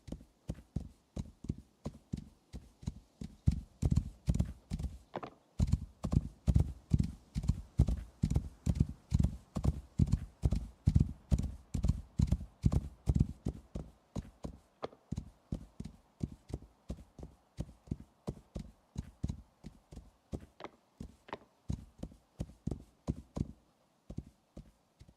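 Horse hooves clip-clop steadily while riding in the game Rising World, a long run of regular, close, even hoofbeats that thins out and loosens toward the end.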